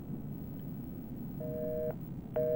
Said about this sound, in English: We can still hear the dial tone.